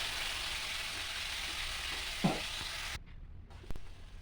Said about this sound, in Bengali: এবার দেখো মশলা তোমার পেস্ট হয়ে গেছে এবার আমি দিয়ে দেবো মশলাটা